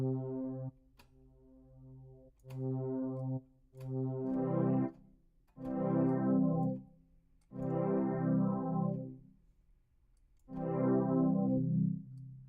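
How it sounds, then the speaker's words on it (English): A low synthesizer pad plays long swelling chords, heavily processed with chorus and distortion-like effects, each note fading in and out, alone. "I need to change the sound of this low pad."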